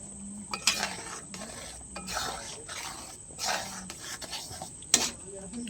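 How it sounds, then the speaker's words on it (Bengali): A mixture of mashed milk solids with sugar and cornflour being stirred in a pan, giving soft intermittent scraping strokes of a spoon over a faint sizzle and a steady background whine. "চিনি, হালকা করে একটু নিয়ে নিচ্ছি কর্নফ্লাওয়ার, দিয়ে ভালো করে নাড়াচাড়া করে নেব।"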